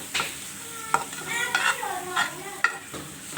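Chicken and peas filling frying in a pan while being stirred, with a soft sizzle under a run of sharp scraping and clinking strokes from the spoon, close and fairly quiet.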